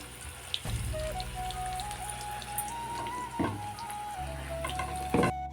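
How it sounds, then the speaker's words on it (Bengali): Lentil fritters (bora) fry in oil with a steady, moderate hiss. A thin tonal whine glides over it, with a few low thumps and knocks in the background. "এইদিকে বড়া ভাজা হচ্ছে"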